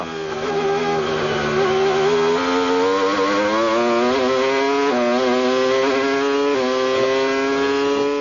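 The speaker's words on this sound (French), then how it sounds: "Et écoutez le Mecachrome." 1998 Formula 1 cars with Mecachrome engines race at the German Grand Prix, a loud, continuous high-pitched engine scream that climbs through gear changes and holds steady at full throttle for the whole stretch.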